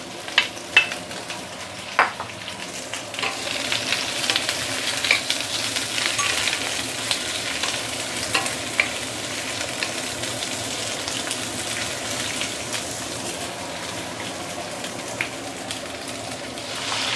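Shredded cabbage and carrots stir-fry in hot oil in a wok, a continuous bright sizzle with scraping stirs and occasional sharp clinks of the utensil, close and steady with no talking.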